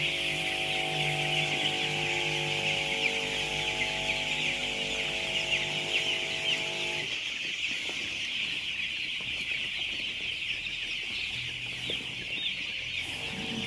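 A crowded flock of broiler chickens bunched together for vaccination cluck and chirp continuously, while a steady mechanical hum runs under the first half and then drops away, leaving dense bird chatter.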